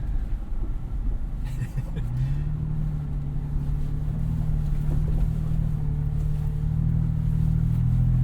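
A 2022 Toyota 4Runner TRD Pro in 4 high crawls off-road over rutted ground, its engine a low, steady cabin rumble with a gentle rise in revs partway through, no talking.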